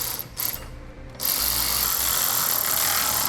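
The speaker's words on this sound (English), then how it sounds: "Now we'll go ahead and tighten the nuts on our carriage bolts." A tool runs nuts down onto carriage bolts during the installation of Air Lift LoadLifter air helper springs on a 2018 Chevrolet. A few light clicks come first, then a loud, steady mechanical whir close by.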